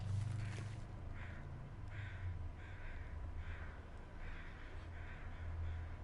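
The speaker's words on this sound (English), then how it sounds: "Just trying to pinpoint all the crows." Crows caw in a survival video game, a series of six or so evenly spaced harsh calls at a moderate distance, faint beneath a low steady background hum.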